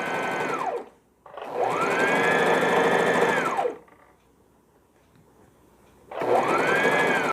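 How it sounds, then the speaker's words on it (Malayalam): A sewing machine stitches the polyfiber middle piece of a beaded smocking potli bag: loud, close mechanical whirring in three bursts, each spinning up and winding down, separated by short pauses. "മിഡിൽ പീസ് പോളിഫൈബറും ചേർത്ത് സ്റ്റിച്ച് ചെയ്യുകയാണ്"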